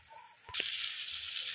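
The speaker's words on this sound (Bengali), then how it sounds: "এবার আমি জল দিয়ে দিচ্ছি এর মধ্যে" Water poured into a pan of potato and pointed gourd curry, setting off a sudden loud hiss that stays strong and steady after a quiet start.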